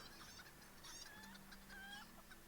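Video game chickens clucking and squawking in short, warbling calls over a steady, hissy ambient background at moderate level.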